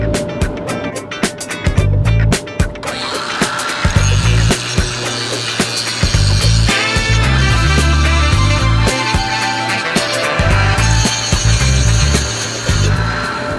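Power tool fitted with a sanding or grinding disc working over a surface, a loud close whirring grind that stops and restarts in bursts, with rattling clatter in between.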